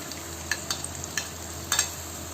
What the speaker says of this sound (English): Next we are adding in all the vegetables.